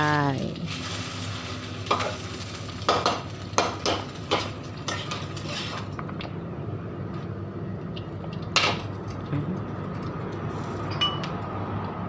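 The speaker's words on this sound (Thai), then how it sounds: "จากนั้นเอาน้ำมันใส่หม้อเอาผิกแกงลงไปแล้วก็เอาผิกตำลงไป" Thai red curry paste sizzles steadily in hot oil in a pot, with a spoon scraping and clinking against the pot now and then, close and continuous.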